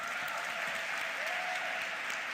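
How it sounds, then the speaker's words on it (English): Steady audience applause at a talk on leading change, a dense even wash of many hands clapping at moderate level from start to finish with no speech over it. "before we go any further, round of applause for Fiorella, please."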